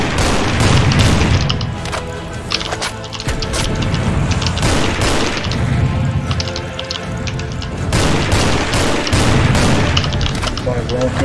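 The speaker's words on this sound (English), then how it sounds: "Oh my god, that's a lot of rockets." Rocket explosions in the video game Bloodsugar: repeated heavy booms and crashing blasts roll through a loud, busy mix of continuous action, with a voice talking over it.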